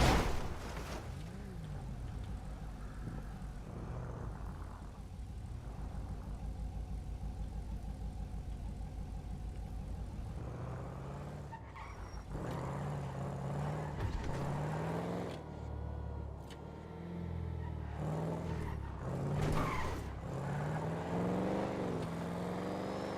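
A BMW F90's engine in a GTA-based roleplay game runs steadily at a mid-pitched idle and rev, with louder revving surges and shifting engine tones in the second half.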